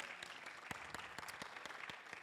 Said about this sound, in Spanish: Give a loud applause to the Lord.